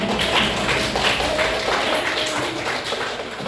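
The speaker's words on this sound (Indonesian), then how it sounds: "Beri tepuk tangan dulu." A math class applauds a student with even, continuous clapping from many hands at moderate loudness.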